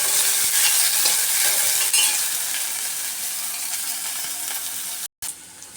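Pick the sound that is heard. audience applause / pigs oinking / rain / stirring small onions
stirring small onions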